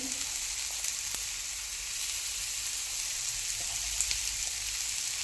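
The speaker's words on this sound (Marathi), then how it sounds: "एकच मोठी पॅनमध्ये पोळी तयार करून घ्यायची आणि पॅनमध्येच थापून घ्यायची" Besan poli cooks in a large pan over a low flame, giving a soft, even sizzle that holds steady throughout, with a few faint taps as the dough is pressed flat.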